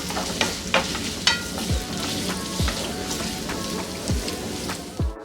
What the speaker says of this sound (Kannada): ಈರುಳ್ಳಿ ಕೂಡ ಅಷ್ಟೇ ಸಾಫ್ಟ್ ಆಗೋ ತನಕ ಇದೇ ರೀತಿ ಇದನ್ನು ಹುರ್ಕೊಳ್ಳೋಣ